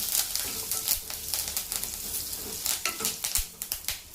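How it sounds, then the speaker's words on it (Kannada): Spices and curry leaves fry gently in a pan over a low flame, giving a steady soft sizzle with scattered crackles and light stirring taps, close and continuous throughout. "ಇದೆಲ್ಲ ಲೋ ಫ್ಲೇಮಲ್ಲೇ ಹುರ್ಕೊಳ್ಬೇಕು"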